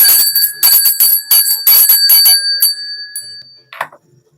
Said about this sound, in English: let me ring my little bell here